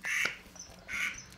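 Two short, nasal duck quacks, close and clear, played as a guess-the-sound game, with a short pause between them and no voices over them.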